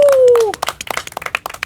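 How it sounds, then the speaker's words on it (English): Audience clapping breaks out after a long sustained tone, a loose burst of overlapping hand claps at a hosted restaurant dinner event, moderately close and lively for a second or so. "First round of applause we've had."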